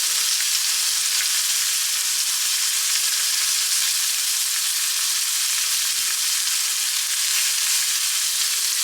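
Speckled trout fillets frying in a pan, a loud, dense, continuous sizzle held steady throughout, close up with no talking.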